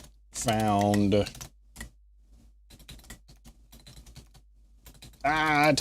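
Typing on a computer keyboard at a desk during software development, heard as a soft, irregular patter of key clicks between bursts of a voice speaking.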